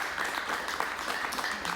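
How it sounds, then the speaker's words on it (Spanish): A Spanish-language television studio audience claps in a short, dense burst of applause, moderately loud and steady. "un aplauso"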